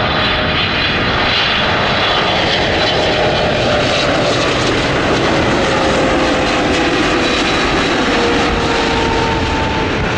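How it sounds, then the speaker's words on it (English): Aircraft engines of a CMA CGM Air Cargo Boeing 777 at O'Hare International Airport roar loudly and steadily throughout, a broad constant jet noise with faint whining tones gliding slowly in pitch. "a CMA CGM Air Cargo 777"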